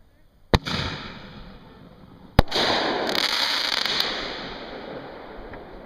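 Fireworks burst at a summer cottage, with two sharp cracking reports followed by a crackling, hissing spread that fades slowly, heard from a moderate distance amid faint voices.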